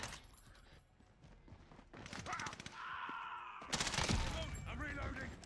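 Scattered video game shooter gunfire, including an AS VAL rifle, crackles in short bursts at moderate level, mixed with footstep-like clatter and other game effects and growing busier toward the end.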